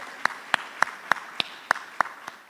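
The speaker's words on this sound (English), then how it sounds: "let's give you a round of applause." Sparse, evenly spaced single claps from a conference audience at a distinguished lecture, sharp and fairly distinct, about eight claps over a couple of seconds rather than a full ovation.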